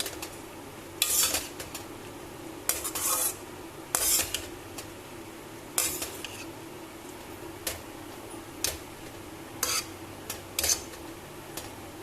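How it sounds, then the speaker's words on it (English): A spoon scrapes and stirs poha and capsicum upma in a pan with the gas switched off, close rubbing strokes and intermittent metallic clinks in an irregular rhythm. "I'm going to switch off the gas and give it a nice mix."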